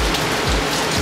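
Steady heavy rain from Hurricane Irma pours down in Florida, a dense, loud hiss of drops drumming on surfaces for about a second, with no voices.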